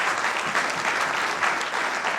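A round of applause from the audience for a visiting agricultural research council executive secretary, loud, dense and sustained clapping throughout with no speech over it.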